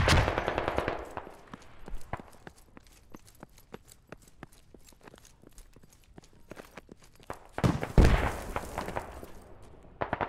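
Video-game machine gun fire: sharp rapid bursts at the start and again near the end, with scattered single cracks and clattering between them, fairly distant and uneven.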